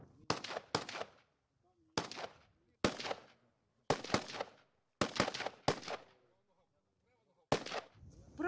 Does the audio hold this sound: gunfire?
yes